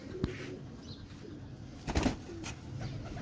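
Pigeons at the Shahdra pigeon market in Lahore, where Rampuri pigeons are sold, give soft low coos against a murmuring background, with a brief flutter and a few clicks near the middle.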